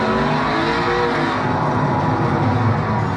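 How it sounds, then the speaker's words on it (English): A Toyota GT86 / Subaru BRZ boxer-engined race car at the Nürburgring, heard as a loud, steady engine drone with a rising pitch sweep, continuous and close for the whole stretch with no talk. "I can hear another boxer engine from the"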